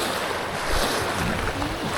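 Strong wind roars steadily across the microphone over the wash of sea waves, a constant, loud rushing with no speech.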